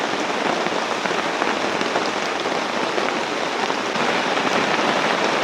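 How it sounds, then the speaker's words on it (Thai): Heavy rain during a storm pours steadily and loudly onto surfaces outdoors, a dense continuous hiss of drops with no voices. "ฝนตกมาอีกแล้วพี่น้องเอ้ย"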